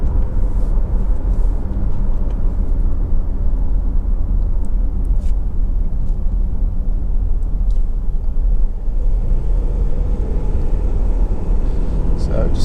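A Honda CR-V 2.2 i-DTEC EX 4x4 diesel picks up speed on the road, giving a steady, loud low cabin rumble with road noise that stays even throughout.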